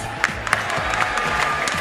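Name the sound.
crowd applause for an MMA champion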